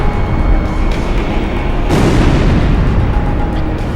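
In the Ace Combat Zero combat flight game, a destroyed target blows up with a loud, rumbling boom about halfway through, over a constant roar of jet engine and battle noise.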